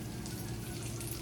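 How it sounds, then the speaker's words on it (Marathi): Fish frying in a pan in a home kitchen, a dense steady hiss of sizzling oil at low level, brief and without talking. "मच्छी फ्राय होते"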